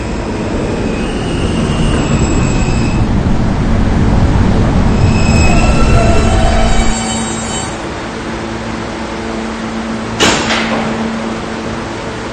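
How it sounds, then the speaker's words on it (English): An R160 subway train pulling into an underground station, a loud rumbling roar that eases as it slows, with high wheel squeals and a brief sharp hiss near the end. "This is a Potatoburg-bound K Express train."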